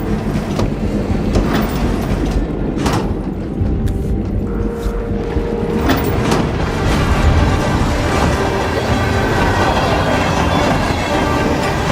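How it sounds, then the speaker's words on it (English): In the Hitman: World of Assassination video game, a train rolls along decommissioned rail lines with a continuous loud rumble and rhythmic clatter throughout, and no voices are heard. "A regular ghost train, huh?"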